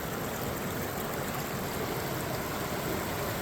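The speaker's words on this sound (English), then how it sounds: "You see that these riffles extend all the way across. The water moves pretty quickly" The Susquehanna River runs quickly over shallow riffles that stretch across its width, giving a steady, broad rushing wash of moving water with no voices.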